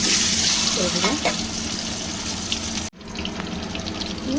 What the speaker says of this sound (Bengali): ডিমগুলো ভাজা হচ্ছে ভালো করে ডিমগুলো ভাজবো